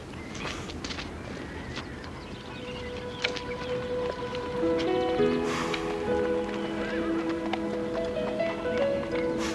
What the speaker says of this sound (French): j'en ai assez de passer des heures sur le dos de ce cheval